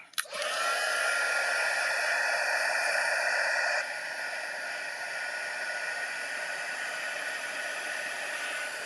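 A heat tool blows hot air to heat set ink on a handmade fold card, a steady whooshing hiss that starts abruptly and keeps running, dropping slightly in level partway through.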